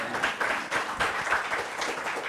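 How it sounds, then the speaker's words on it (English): Audience at a community forum with the mayor breaks into clapping, a short, fairly close burst of hands lasting a couple of seconds with uneven rhythm and faint voices mixed in. "oh, you can clap. You can clap."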